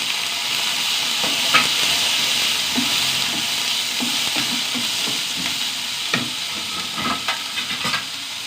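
Shallots and green chillies fry in a pan with a steady, loud sizzle, while light scraping and tapping from stirring come through at irregular moments.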